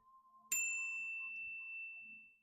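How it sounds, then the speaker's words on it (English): A small bell is struck once, giving a bright clear ding that rings on and slowly fades over about two seconds, close and alone in a quiet room during a tarot reading. "So I'm going to ring my little bell."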